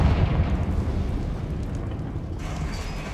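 Confringo fire spell blast in the Hogwarts Legacy video game, a loud rumbling burst that starts immediately and rolls on as a dense crackling roar, tailing off with a hissy fizz.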